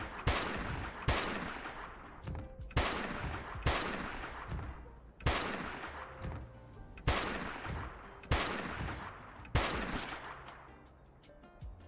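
Gunfire from the Dustland Delivery video game as the party shoots from behind walls: about nine sharp, loud bursts of rapid shots at fairly even intervals, each ringing out briefly before the next.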